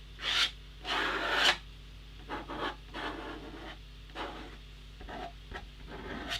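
A tool scrapes and scratches at a watercolour painting surface in short, light strokes, first a few firmer passes and then softer, quicker scratches, close but faint, with no voices.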